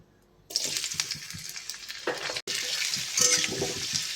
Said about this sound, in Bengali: এবার এই সবজিগুলোকে ভেজে নেব। প্রথমে দিয়ে দিচ্ছি গাজর।